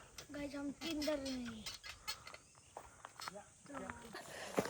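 Desi village chickens cluck and call nearby in short, uneven bursts outdoors, fairly quiet, with people talking around them.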